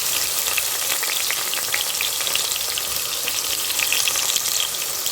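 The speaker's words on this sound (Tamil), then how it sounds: "இந்த 4 வெங்காயத்தையும் சேர்த்து நல்லா வதக்கிக்கிறோம்." Four large onions sautéing in a pan for chicken curry, a loud, dense, continuous sizzle that crackles close up without a break, no talk.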